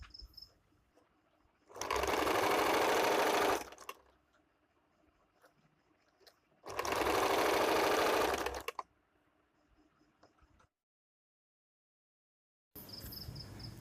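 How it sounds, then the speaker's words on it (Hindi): A sewing machine stitching folded fabric, two loud, steady whirring runs of about two seconds each separated by quiet pauses, with a third run starting at the end. "तो इस तरह से फोल्ड करके मैं ये पूरा सिलाई लगा लूँगी।"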